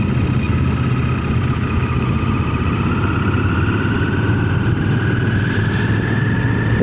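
A Royal Enfield motorcycle engine running steadily and loudly up close, a continuous throbbing mechanical drone with no break and no talk over it.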